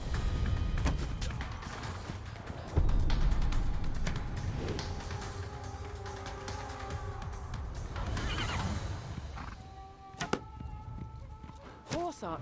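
Horses neighing amid rumbling battle noise and clattering effects in Age of Empires 4, with whooshing arrow-like sounds from horse archers and a few sharp impacts.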